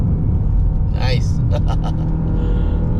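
A 2.0L Mazda 3 sedan climbing a mountain road, with a steady low engine drone and road rumble inside the cabin as someone talks over it.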